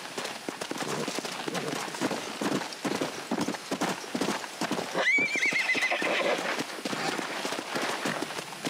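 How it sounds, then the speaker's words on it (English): A horse in the Red Dead Redemption video game clip-clops with steady hoofbeats, then lets out a loud, rising whinny midway, all over a busy game soundscape. "I mean, the horse doesn't want to go."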